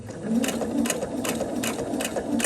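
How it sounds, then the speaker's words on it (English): A sewing machine stitches binding onto a quilt with a steady whirring drone and rhythmic clicking pulses about twice a second, close and continuous with no talking. "then you continue sewing towards your mark"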